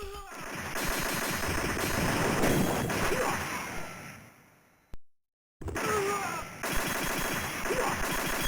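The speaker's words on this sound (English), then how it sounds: "This is a machine gun that shoots really fast for about 10 seconds." Rapid automatic gunfire from the free machine gun power-up in the 1987 Operation Wolf arcade game, dense and loud for several seconds, breaking off into a brief silence before the rattling bursts resume.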